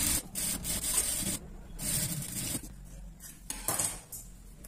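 A sewing machine runs a line of stitching on a sleeve in short, uneven bursts of close whirring and rattling, with brief pauses between them.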